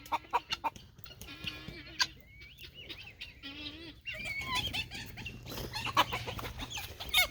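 Escaped chickens and guinea fowl on a farm make close, irregular clucks and squawks, some sharp and rising in pitch, against quiet background noise.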